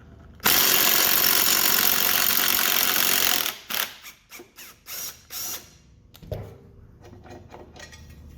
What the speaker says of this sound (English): We're going to use an impact gun, and that should take it off for us.